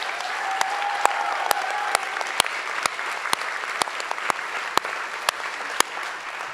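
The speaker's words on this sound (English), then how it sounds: "So can we give just a huge round of applause to all of our contestants?" Audience applause for contestants at a pitch competition event, a steady roomful of clapping with a few sharp, louder claps standing out near the front, lasting throughout without talk.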